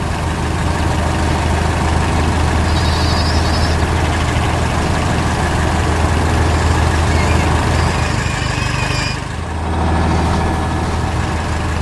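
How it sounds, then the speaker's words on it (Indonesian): A large farm tractor engine works steadily while lifting hay bales, giving a continuous loud, low diesel rumble that barely changes throughout, with a brief dip near the end. "Mobil traktor sedang bekerja keras, mengangkat bale hai dengan cangkang baja"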